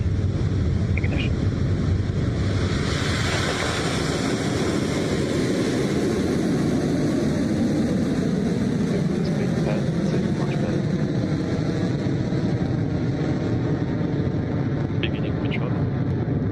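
A Rocket Lab Electron rocket roars after ignition as a loud, continuous, wind-buffeted rumble that swells and grows rougher over time.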